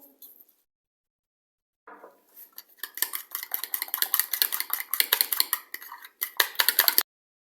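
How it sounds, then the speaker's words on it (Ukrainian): Two eggs with a pinch of salt being whisked in a bowl: after a brief pause, quick rhythmic clinking and scraping of a fork or whisk against the bowl, close and lively for about five seconds. "Нам треба взбити ці два яйця."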